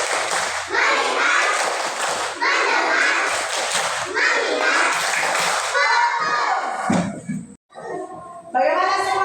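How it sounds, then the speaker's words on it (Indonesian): Schoolchildren in a classroom clap in rhythmic bursts during a clapping game, their hand claps mixed with loud group chanting and a teacher's voice. "Tepuk fokus."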